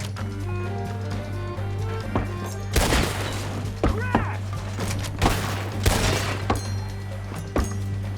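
Gunfire in the video game Red Dead Redemption 2 during a raider fight: loud, close shots and booms go off in irregular bursts over a steady low game soundtrack hum.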